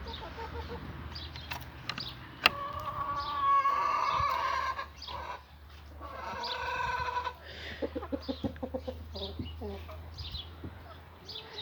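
Cochin hens settling into a coop for the night give soft clucks and a longer drawn-out call, with a few sharp bird sounds and brief scratchy movement over a low steady hum.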